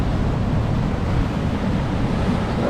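Ocean waves at Vizag beach roll in as a steady, loud wash of surf mixed with wind rumble, continuous and unbroken, with no voices.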